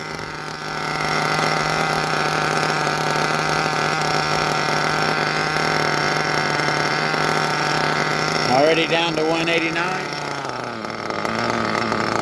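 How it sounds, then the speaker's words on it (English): A small nitro model engine idles steadily and loudly throughout during break-in, its pitch gradually sinking, while a person talks over it near the end. "As we're lowering, you hear the idle lowering, right?"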